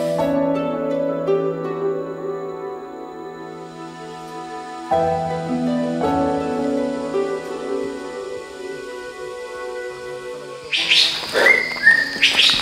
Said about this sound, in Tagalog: malayo pa lang kanina ay naririnig na natin etong huni ng ibon